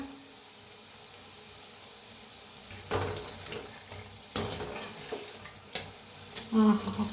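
Pakoras (bhaji fritters) deep-frying in a pan for kadhi pakoda, a soft bubbling sizzle with clinks and scraping, fairly faint, no voices.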